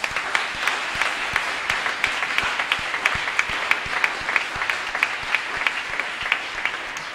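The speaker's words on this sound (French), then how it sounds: "On acclame le Seigneur." A church congregation at a prayer service claps the Lord in a fast, even rhythm, many hands striking together in a steady, sustained beat that continues without a break.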